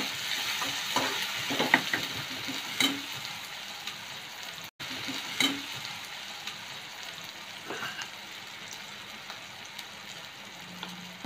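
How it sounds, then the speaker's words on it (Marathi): Onion and tomato fry in oil in a pan for a stuffed masala brinjal dish, a steady close sizzle running throughout with scraping stir strokes and a few louder clinks of the spoon against the pan. "कांदा आणि टोमॅटो चांगलं तेलामध्ये फ्राय झालेलं आहे."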